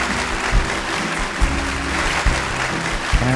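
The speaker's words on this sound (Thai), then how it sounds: "ขอเสียงปรบมือต้อนรับดังๆครับ" An audience at a public speaking event applauds to welcome a speaker, a full, steady roar of clapping with low music underneath and a few soft thumps spaced through it.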